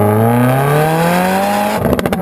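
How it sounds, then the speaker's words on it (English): Loud 2017 Subaru WRX engine (FA20) revs up steadily with a rising exhaust drone, then cuts off abruptly into rapid popping and crackling on the upshift. "That exhaust on those upshifts."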